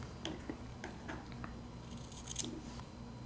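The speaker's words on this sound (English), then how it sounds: "I put my scissors against the edge of the base and cut." Small scissors snipping vape coil wire or cotton against the edge of an RDA base, several quiet crisp clicks at irregular intervals, close up over a faint steady background hum, with no talking.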